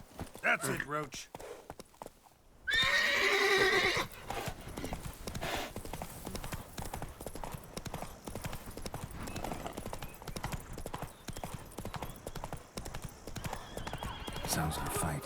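Horse from The Witcher 3 game neighing loudly, then clip-clopping hooves in a steady rhythm throughout, blended with game music and ambient sound.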